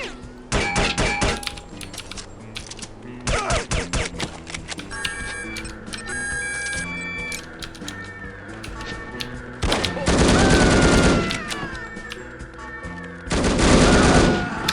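Gunfire in the video game No One Lives Forever, with bursts of sharp rapid shots, clattering repeated reports and a couple of longer sustained volleys mixed with game sound effects, loud and without talk.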